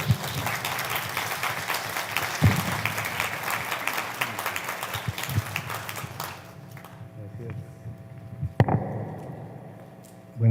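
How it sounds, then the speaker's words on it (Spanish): An audience at a university constitutional law colloquium applauds to welcome a speaker, steady clapping that fades after about six seconds into a quieter room with faint hum and a sharp knock. "Lo recibimos con fuertes aplausos"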